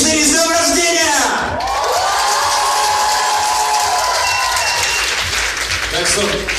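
A crowd claps and cheers at a fifth-anniversary celebration for a youth news team, loud continuous applause mixed with whoops, shouts and voices.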